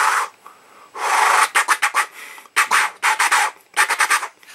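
Human beatbox club scratch, a vocal imitation of a DJ's record scratch: loud, close, raspy airy bursts in rhythmic clusters, alone without talk.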